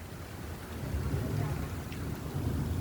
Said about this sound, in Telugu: చినుకుల యొక్క సౌండ్ కూడా వినండి చినుకులు పడే సౌండ్ శబ్దం